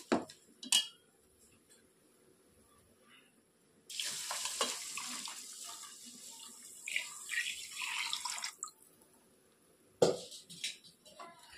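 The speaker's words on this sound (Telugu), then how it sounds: "ఇప్పుడు ఇందులో మనం గ్లాస్కి 2 గ్లాసెస్ వాటర్ చొప్పున మనం వాటర్ పోసుకుందాము" Water pours into a pot for rice in a rushing four-second stream, set between quieter clinks of pots and utensils.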